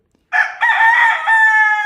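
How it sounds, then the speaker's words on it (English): A rooster crows loudly and close by, one long ringing cock-a-doodle-doo that holds steady to the end. "I sold off quite a few and ended up with 5 roosters at the end"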